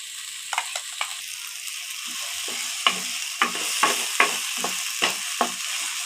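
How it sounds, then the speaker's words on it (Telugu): Gongura paste being stirred into a curry in a pan, a string of close, sharp scraping strokes over a steady sizzle of frying. "గోంగూర వేసి ఒకసారి కదుపుకొని"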